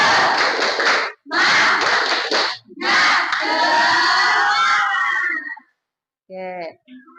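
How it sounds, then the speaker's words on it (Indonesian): Schoolchildren in a classroom doing a rhythmic spirit clap, three loud bursts of patterned clapping and chanting in unison, followed by a pause and brief talk. "Tepuk semangat Putri."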